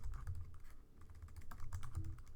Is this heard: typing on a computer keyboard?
yes